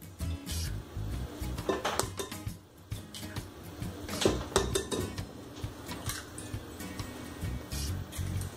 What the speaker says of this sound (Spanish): a continuación le vamos a poner los huevos